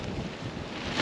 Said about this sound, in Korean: 바람 진짜 많이 분다.